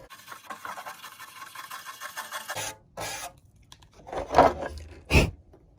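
A brush scrubs a fiberglass camper access hatch with raspy rubbing strokes, a steady scratchy stretch followed by a pause and then several louder, distinct bursts close to the mic, no talk.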